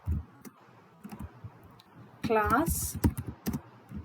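Close typing of a name on a computer keyboard, steady key clicks with a brief faster burst of tapping, under a speaking voice.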